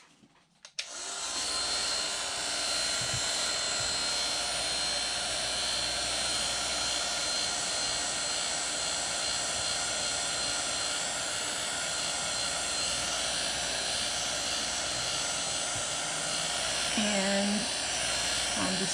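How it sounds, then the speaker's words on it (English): Handheld heat gun blowing hot air over freshly shaped paper flowers to dry and harden them, a loud constant roaring whine that starts abruptly and runs without a break for the whole stretch. "And I'm going to use my heat gun."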